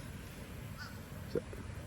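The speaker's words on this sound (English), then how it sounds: "So that crow's crowing again, like, hey, I'm trying to sleep." Crow cawing outdoors in a park-like spot with ducks nearby, a short faint call or two standing just above a steady low background rumble.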